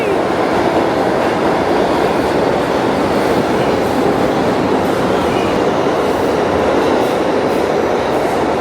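Subway train pulling into a New York station, its heavy rumble and wheel clatter loud and steady from start to finish, with no one speaking over it.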